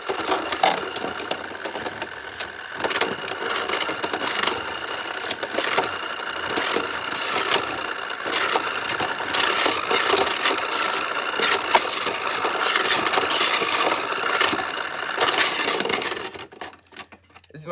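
Beyblade tops spin inside a motorized Motor Strike stadium with a steady whirring, rattling mechanical buzz that runs continuously and cuts off near the end, with a voice briefly heard.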